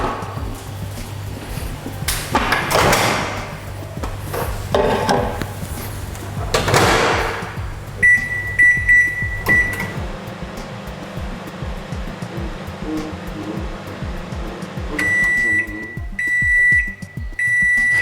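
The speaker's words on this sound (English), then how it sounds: "pop it back in the microwave for another minute and pull it back out and go from there" A microwave oven runs while reheating a sweet potato for another minute, with a steady low hum, a few clunks of the door, and repeated high beeps signalling the end of the cycle.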